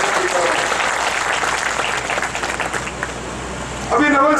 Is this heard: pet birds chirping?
no